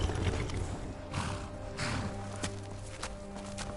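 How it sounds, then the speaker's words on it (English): Horse hooves clopping steadily over ambient video game music, with a brief snort or whinny, moderately close and not very loud. "Here's horse sound."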